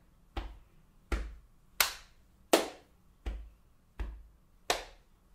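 Seven sharp hand claps from body percussion, evenly spaced about two-thirds of a second apart, each crisp and close with a quick decay, alone with no talking.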